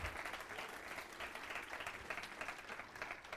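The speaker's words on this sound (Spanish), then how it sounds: "¿Alguien se anima a dar un aplauso al Señor" A church congregation at a sermon breaks into sustained applause, a steady wash of many hands clapping at a distance, faint and even throughout.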